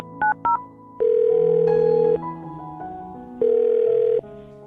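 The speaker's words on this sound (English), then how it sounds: "I'm going to dial her phone number right now" A telephone dialing a number: two short touch-tone beeps, then longer sustained tones with pauses between them, clear and close with no talking.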